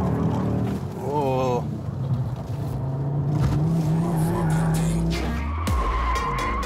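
An Audi RS 3 drifts on semi-slick tires, the tires squealing loudly over the engine's roar and shifting pitch, with people talking excitedly in the car.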